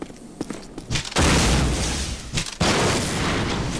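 Grenade explosions and gunfire in Call of Duty: scattered shots and thuds give way to two sudden loud blasts, each followed by a sustained roaring rumble, close and heavy.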